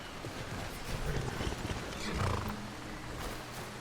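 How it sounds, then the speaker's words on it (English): Horses in the Skyrim video game standing near a cemetery, with soft hoof clops, snorts and a whinny close by over a low outdoor ambience. "let's leave the horses up here this time, instead of down in the middle of the cemetery"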